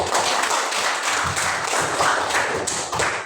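A crowd clapping together, a dense, steady burst of applause lasting a few seconds.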